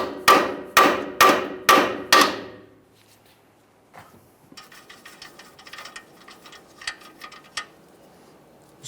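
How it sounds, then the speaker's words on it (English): Five sharp, evenly spaced hammer strikes free a tie rod end stud from the steering knuckle on a Ford F-150 with a 3.5L V6. The blows ring loud and close, then give way to softer clinks and rustling handling of metal parts. "we'll start lightly tapping on this area, breaking it free from the steering knuckle"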